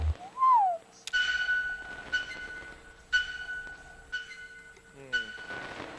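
A single whistled note rises and falls in the Kentucky Route Zero video game, then repeated delayed echoes ring back down deep tunnels at roughly one-second intervals, each fainter and ringing.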